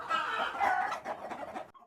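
Village free-range chickens clucking and squawking close by in a busy, continuous burst that drops away abruptly at the end.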